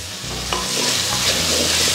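Sliced tomatoes and curry leaves sizzle in a hot pan while being stirred, a close frying hiss with scraping and shuffling stir sounds and no voices.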